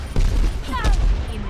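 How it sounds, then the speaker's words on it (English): Pharah's rocket barrage ultimate in Overwatch, a rapid flurry of close rocket bursts and booms with whooshing streaks, loud and dense over the short span, with a voice speaking over part of it. "Rocket barrage inbounding."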